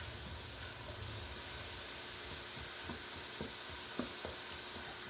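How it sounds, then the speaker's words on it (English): A garlic mixture sizzles in a frying pan while being stirred, a steady soft hiss broken by a few light scraping taps of the utensil near the end, fairly quiet and without talk. "So we're going to stir this all up."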